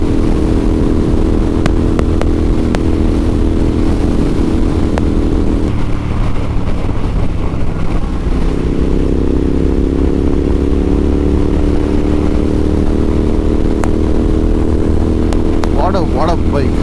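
Royal Enfield Interceptor 650 motorcycle on a ride, its engine a steady loud drone with a shift in pitch midway as it changes gear, heard close under constant wind rush.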